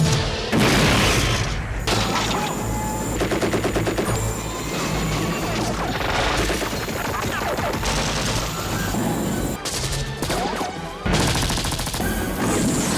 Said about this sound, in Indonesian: mereka mengeluarkan tembakan peringatan